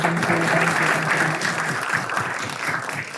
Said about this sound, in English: why don't we give a round of applause to our guest?